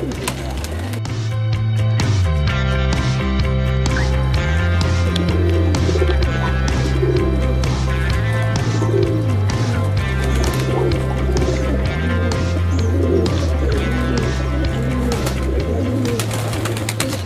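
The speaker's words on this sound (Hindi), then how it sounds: "ये कबूतर बज रही है झिलमिले।" Rare fancy pigeons at a breeder's loft coo in a steady rhythmic stream of low, repeated calls, set against a loud dense background.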